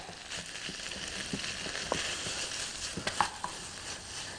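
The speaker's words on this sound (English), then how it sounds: "And I'm going to toss in tofu." Tofu pieces of mixed shapes and sizes tossed into a hot pan for rice noodles, sizzling and frying steadily with faint stirring clicks and a few sharper crackles, close by and moderately loud.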